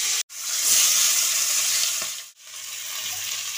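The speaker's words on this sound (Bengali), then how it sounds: "আমি তেল গরম করতে দিয়েছি, আমি এখন এই মাছের মুড়োগুলো আমি ভেজে নেব" Fish heads sizzle and fry in hot oil, a steady loud hiss with brief dips as pieces are moved in the pan.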